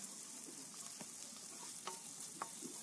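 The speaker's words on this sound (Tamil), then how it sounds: "இப்போ நல்லா வேகட்டும், மறுபடியும் ஒரு டைம் நல்லா கிளறி விடுங்க." Bitter gourd stir-fry is stirred in a pan, giving a faint, steady sizzle with a few soft scraping clicks of the spatula, close and alone.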